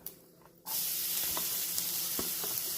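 Chopped onions drop into hot oil with popped mustard seeds for an Andhra-style brinjal pachadi, bursting into a loud, steady close sizzle after a quiet moment, with faint stirring ticks.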